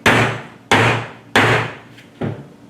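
Four sharp, loud hammer blows drive a 16-penny nail through the rivet hole of a dog collar nameplate, struck in a steady rhythm with brief decaying rings between hits.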